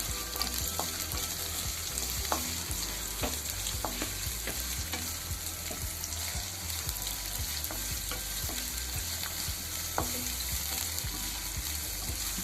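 Onions and curry leaves fry in a pan for a chicken dish, a steady loud sizzle with irregular stirring scrapes and pops throughout, no talk.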